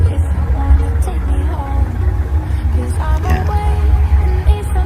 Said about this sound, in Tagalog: Naririnig nyo yung ingay ng apoy.